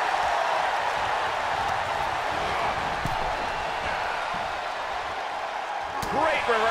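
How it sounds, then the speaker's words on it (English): Crowd roar in the WWE 2K22 wrestling video game, a steady, loud wash of cheering that runs throughout, with a few faint thuds and a brief voice near the end. "The sound of this crowd is deafening, and he's asking for more."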